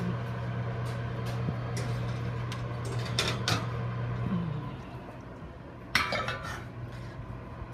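A pan of baked whole wheat artisan bread is taken out of a kitchen oven. Light metallic clinks sound over a steady appliance hum, followed by one sharper clank of the pan near the end.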